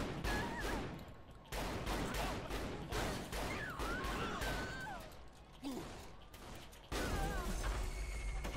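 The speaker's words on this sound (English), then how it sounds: "I'm going to pull out the shotgun." Repeated shotgun blasts in the video game Saints Row The Third Remastered during survival mode, heavy booming shots every second or so amid chaotic combat noise and shrill squealing effects.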